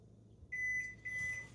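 A kitchen oven being switched on gives two short electronic beeps, clear and close in a quiet room.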